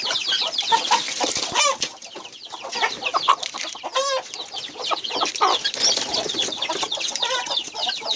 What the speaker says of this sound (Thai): ปัญหาคือไก่กำลังฟักไข่นะครับ